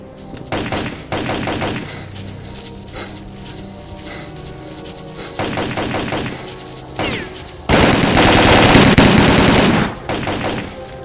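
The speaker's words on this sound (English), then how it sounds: "Check your weapons and fire at will." Machine gun fire in a combat video game, with repeated sustained bursts of rapid automatic gunfire, loud and close, building to a dense continuous volley near the end.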